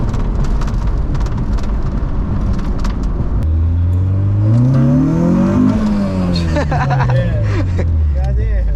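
A Honda Civic launching hard in a drag race against an Acura TL, engine note climbing steeply through a rising rev then shifting, loud and close from inside the car, with wind and road roar throughout.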